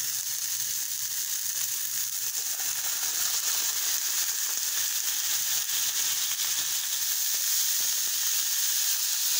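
An Angus beef burger patty sizzles in a pan, a steady close hiss of frying fat that holds an even level throughout with no pauses.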